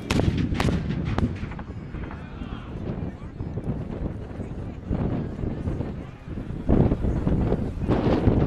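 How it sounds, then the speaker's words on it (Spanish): Artillery opens fire at long range in a battle, with sharp booming shots and rumbling blasts over gusty wind noise, loud and repeated throughout. "Empiezan a abrir fuego a larga distancia."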